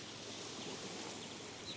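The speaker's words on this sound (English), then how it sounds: "fall asleep to the waves, okay?" Steady, soft wash of ocean waves on a beach, a continuous broadband hiss with no distinct breaks, heard alone at low level.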